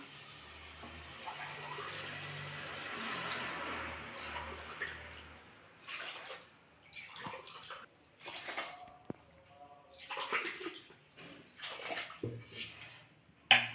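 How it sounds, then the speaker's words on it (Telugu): Water from boiled, mashed tomatoes poured into a cooking pot for rice: a steady gushing pour for about five seconds, then intermittent splashes and clinks of utensils against the vessel. "మనం ఉడకబెట్టుకున్న టమాటాలు బాగా ఇలా స్మాష్ చేసుకున్నాం కదా ఈ నీటిని ఎసరు పోయాను"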